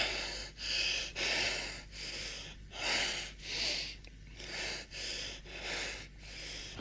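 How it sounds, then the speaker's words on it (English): Deep, slow breathing repeats in even cycles of drawn-in and pushed-out breath, close and clear with no talking. "How's the breathing now?"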